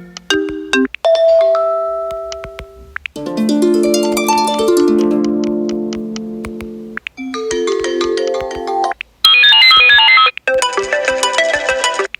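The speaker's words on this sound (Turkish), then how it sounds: "Zil sesleri bu şekilde." A sequence of different iOS 17 iPhone ringtones and chimes, each playing briefly before switching to the next melody, clear and loud with no talking.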